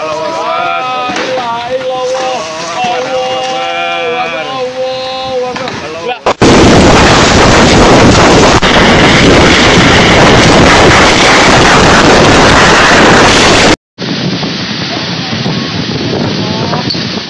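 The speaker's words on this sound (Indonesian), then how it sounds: "Angin puting beliung menghajar 3 kecamatan di Kabupaten Kediri, pada Jumat siang, 26 Januari 2024." A tornado tears through a district of Kediri at midday, its wind a loud, harsh, sustained roar that swamps everything, after a stretch of voices crying out and before an abrupt cut to another noisy scene.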